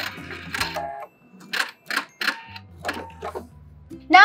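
A sewing machine back stitches a horsehair braid hem in short mechanical bursts, several separate whirring runs with brief pauses between them, heard close and alone.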